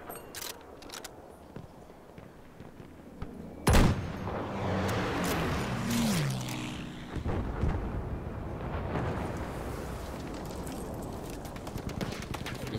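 Heavy gunfire and explosions in a Battlefield V match as an anti-tank rifle fires at a tank: a loud sharp blast near four seconds, then dense overlapping booms and a rumbling battle din throughout.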